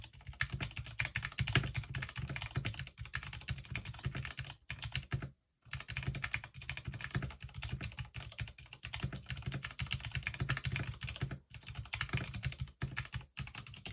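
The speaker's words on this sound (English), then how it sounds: "now let's take a listen to the sound of the VS2 switches." Steady, fast typing on a Vissles V84 75% mechanical keyboard fitted with VS2 switches, a dense run of soft, even keystrokes up close, broken by a couple of short pauses, with no voices.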